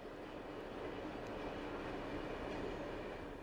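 Freight train of garbage containers rolling past on a German line, a steady broadband rumble and rush of wheels and wagons throughout, continuous and fairly close with no voices.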